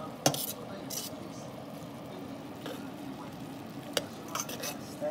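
Greens and onions stirred in a pan for a corned beef and vegetables dish, quiet background sizzle punctuated by a few sharp metal clanks of the spoon against the pan.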